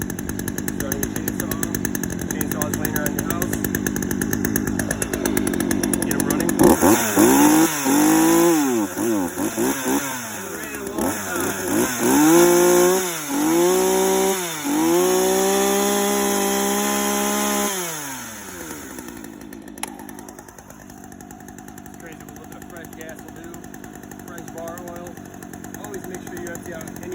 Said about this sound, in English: Starting with chainsaws laying around your house. Get them running.